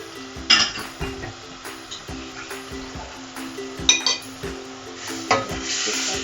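Karahi chicken being stirred with spices in a pan, a utensil scraping and clinking against the metal in repeated strokes over a steady low sizzle, with a few sharper knocks standing out.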